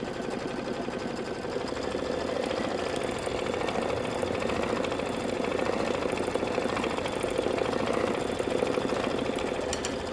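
An embroidery machine stitches a tack-down line on a floral design, giving a fast, steady mechanical rattle of needle strokes close by for the whole stretch.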